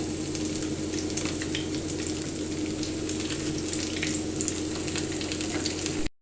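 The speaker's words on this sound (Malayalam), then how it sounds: "അങ്ങനെ എല്ലാ കട്ട്ലേറ്റും നമുക്ക് ഇതേപോലെ അങ്ങനെ വറുത്തെടുക്കാം" Continuous crackling sizzle of spinach cutlets deep frying in hot oil, steady and close, with occasional pops and no talking.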